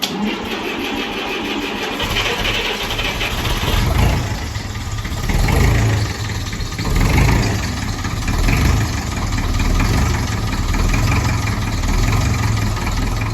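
A vintage Ferguson TE20 tractor engine chugs and idles loudly nearby, a deep rumbling that swells and eases in slow pulses for over ten seconds, with no voices.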